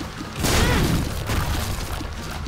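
Explosions in The Binding of Isaac Afterbirth+ erupt in a loud broadband burst that rumbles and crackles for about a second, then settle into a dense, continuous blast wash with a second swell.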